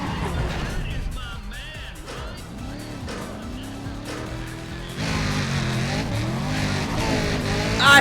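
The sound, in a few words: car engine held at red line, video game Need for Speed ProStreet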